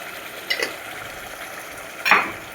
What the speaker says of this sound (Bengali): এবার আমার মশলা প্রায় ভাজা হয়ে এসছে, তেল ছেড়ে দিয়েছে